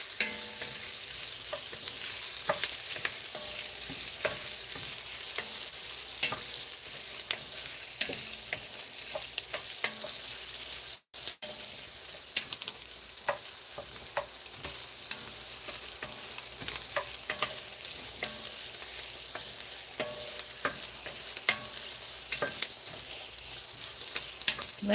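Food for a burrito dinner fries in a pan while being stirred, a steady close sizzle with frequent light scrapes and taps of a utensil, one brief dropout midway, no voices.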